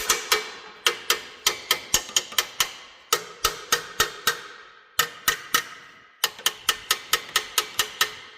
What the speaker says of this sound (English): I'm going to have to hammer it off